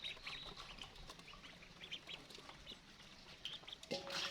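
Faint, scattered bird calls and duck-like quacks over a low outdoor murmur, with a louder burst near the end.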